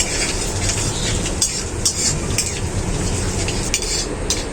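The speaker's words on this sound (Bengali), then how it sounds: "আদাটাকে ততক্ষণ ভাজবো যতক্ষণ না আদা থেকে কাঁচা গন্ধটা যায়।" Crushed ginger, black cumin and bay leaf fry in hot oil in a pan, making a steady close sizzle with occasional sharp clicks of a stirring utensil against the pan, and no voices.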